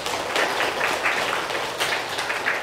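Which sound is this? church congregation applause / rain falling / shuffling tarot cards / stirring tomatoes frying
church congregation applause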